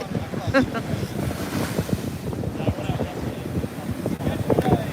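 Ocean surf and gusty wind at Juno Beach, a steady broadband wash with wind buffeting the microphone throughout, and voices talking faintly underneath.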